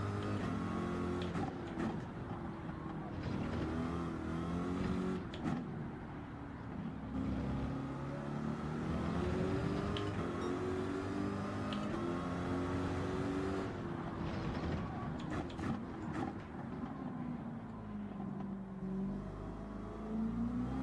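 A supercharged race car engine in the Gran Turismo 7 video game drones steadily, rising and falling through gear changes over about twenty seconds, loud and continuous with no talk.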